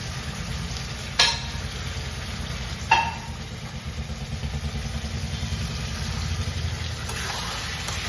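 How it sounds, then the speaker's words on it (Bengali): Bombay duck fish being stirred into spice paste in a hot pan, a steady sizzle and frying hiss with a couple of sharp scrape clatters from the spoon, under a low continuous hum from a gas burner. "এরপরে আমি লোটে মাছগুলো মিশিয়ে মশলার মধ্যে মিশিয়ে দেব, মিশিয়ে ভালো করে নাড়াচাড়া করে নেব।"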